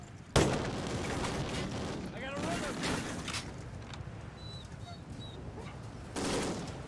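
Gunfire in the Call of Duty: Ghosts game, with sharp bursts and a sustained rattle of shots over continuous battle noise and faint chirps, loud throughout with a heavy opening shot.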